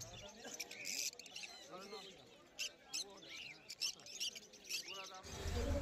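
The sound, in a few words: lovebirds chirping at a bird market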